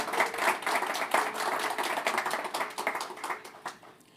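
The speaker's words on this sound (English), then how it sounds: "So I think that deserves a round of applause." Audience applause at a university distinguished speakers event, a moderate crowd clapping steadily for about four seconds in a fairly close room, thinning out toward the end.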